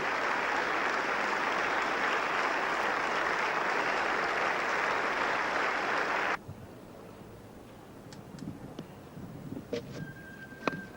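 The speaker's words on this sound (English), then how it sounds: "Just listen to this as he comes in. I think the applause, the noise says it all" Cricket crowd at a Test match in Wellington, New Zealand, applauding Crowe as he walks in, a broad, even roar of distant clapping for about six seconds that stops abruptly, leaving faint ground ambience with scattered small knocks and a thin whistle.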